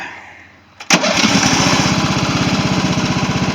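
A plastic riding lawn mower's small engine catches after a brief crank, then runs close and loud with a steady rapid chugging pulse as it is throttled up.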